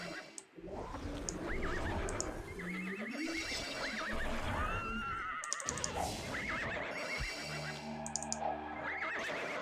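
A horse in the video game Ultima Online whinnies repeatedly amid clip-clopping hooves and game sound effects, loud and close with no talk.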